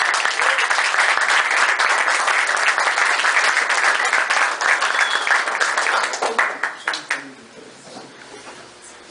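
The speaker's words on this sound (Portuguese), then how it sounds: "Queria que vocês recebessem ele com uma salva de palmas." Dense audience applause fills the room, then thins into scattered claps and fades.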